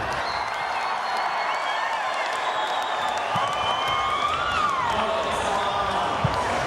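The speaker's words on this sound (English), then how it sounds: "the cheers in the crowd" Crowd cheering at the 2014 World Weightlifting Championships during the 94 kg clean and jerk, celebrating a failed lift: a steady, dense roar of many voices with scattered whistles running throughout, fairly close and loud.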